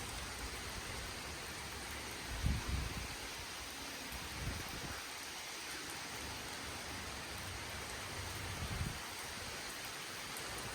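Steady rain blows through a windstorm around a house, a constant soft hiss of falling drops with a few faint low thumps, heard alone without voices.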